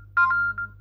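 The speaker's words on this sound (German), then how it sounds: "dann müsste auch mein Handy klingeln." A mobile phone, triggered by a GPS Bluetooth tracker tag, gives a short, clear electronic ring of two or three quick tonal beeps, close and alone over a faint low hum.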